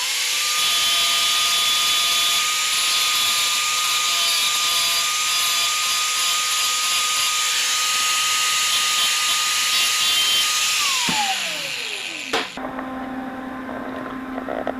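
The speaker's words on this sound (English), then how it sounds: "Welding it with vice grips is going to be the easiest way." Welding a wiper part held in vice grips gives a steady loud hiss and crackle with a faint whine for about eleven seconds, then it falls away into a quieter hum.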